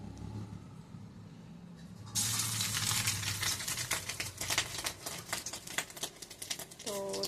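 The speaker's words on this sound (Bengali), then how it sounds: "তো চলো এটা আমি আস্তে আস্তে করে অল্প অল্প করে দিয়ে দেবো এটা ভাজার জন্য।" Batter is dropped bit by bit into very hot oil, and a loud, bursting sizzle with crackling pops starts suddenly partway through and keeps going close by.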